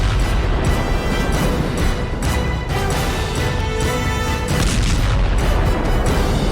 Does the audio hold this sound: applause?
no